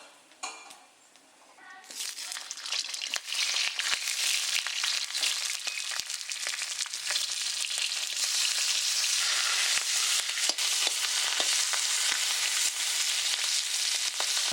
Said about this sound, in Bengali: লতি রান্নার জন্য প্রথমে ইলিশ মাছের মাথাটা ভেজে নেবো, একবার ভেজেছি আর একটু ভেজে নেবো।